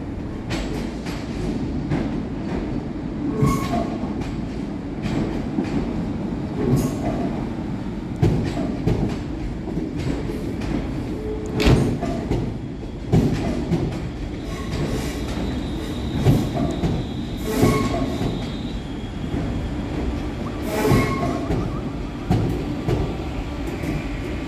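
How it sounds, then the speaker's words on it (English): A London Northwestern Railway train arriving from Crewe rumbles into Birmingham New Street station, with rolling wheel clatter, intermittent clicks and a brief squeal over steady station ambience and no voices. "Next in to terminate with a London Northwestern Railway service off Crewe is"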